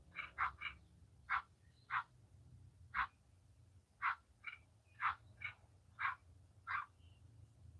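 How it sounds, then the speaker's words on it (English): A frog croaks about a dozen times in short, sharp bursts at uneven intervals, fairly loud and close against a low background hum, with no one talking. "Is that a frog?"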